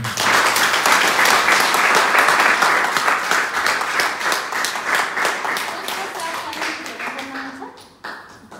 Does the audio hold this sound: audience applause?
yes